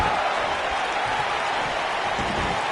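Steady roar of an arena crowd in the WWE 2K19 wrestling video game, a dense, continuous wash of cheering at even volume with no distinct calls or voices standing out.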